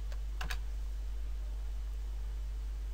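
A computer keyboard's Enter key is pressed, giving a couple of quick, crisp clicks at the start over a steady background hiss.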